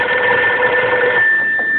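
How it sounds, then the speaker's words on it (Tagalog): A telephone rings with a bright, steady electronic trill that holds for over a second and then drops away, leaving a faint lingering tone; no talking. "tinawagan ko si Pitong"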